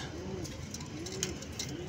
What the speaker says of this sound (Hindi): और ये नया लेके आया है भाई कबूतर